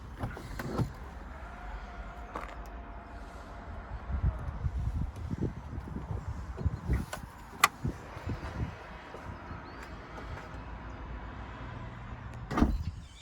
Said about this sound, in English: The vehicle is fit with an electric tailgate.